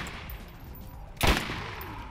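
A single sharp gunshot from the shooter game Borderlands cracks out loudly midway, then decays into a low rumble over a quiet game background.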